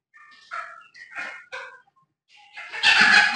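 A hen clucks in short, agitated bursts while being caught, a few separate squawks followed by a louder, harsher flurry of noise at the end.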